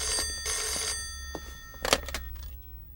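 A telephone bell rings in two short bursts, the second coming after a brief pause. Clattering handling noises and a faint room hum follow, with no talk.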